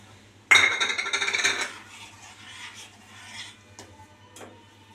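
Thick hibiscus halwa being stirred in a pan, a loud metallic scraping and clinking of spoon against metal for about a second, then softer scraping, followed by a couple of faint clinks.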